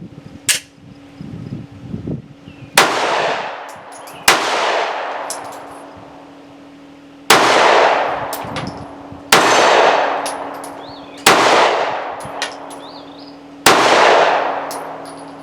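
Mossberg MC1sc subcompact pistol shots ring out one at a time, each sharp crack followed by the clang of steel targets, about six evenly spaced loud reports with ringing decay and no talking.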